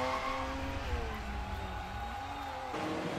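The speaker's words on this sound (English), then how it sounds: "losing control and spinning off the track" A 1955 Formula One race car spinning off the track at the Argentine Grand Prix, its engine note sliding and wavering with tire squeal over a steady roar, moderately loud without a break.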